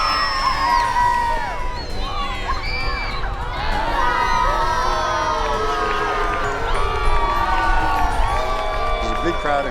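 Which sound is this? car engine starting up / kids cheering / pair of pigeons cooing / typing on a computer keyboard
kids cheering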